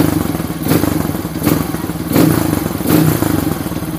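A bored-up Kawasaki KLX motorcycle engine runs at a steady, lumpy idle, loud and close, with periodic throbbing swells roughly every three-quarters of a second.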